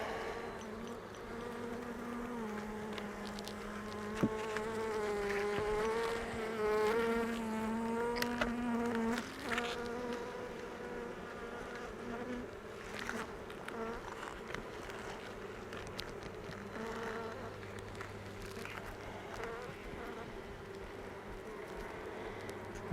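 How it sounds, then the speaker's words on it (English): Honey bees buzz around an open hive in spring as frames fill with nectar, a dense, close hum with individual bees swelling and fading in pitch as they pass, continuing without talk. "Those bees are bringing in nectar."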